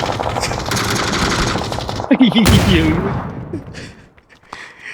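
An M249 machine gun fires in PUBG, rapid loud bursts for about two seconds before breaking off, with a voice briefly calling out over the shooting and the sound thinning to scattered noise at the end.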